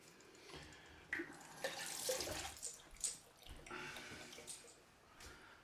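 A bathroom tap runs in irregular bursts during a straight-razor shave, water splashing into the sink at close range, fairly quiet with short pauses between flows.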